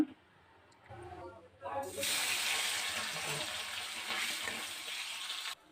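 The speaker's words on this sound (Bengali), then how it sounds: "এটাকে এবারে ভাজবো। সর্ষের তেল দিলাম।" Small tengra and puti fish sizzle in hot mustard oil, a loud broadband crackling hiss that erupts after a quieter start with faint sounds, then holds steady for several seconds and cuts off abruptly.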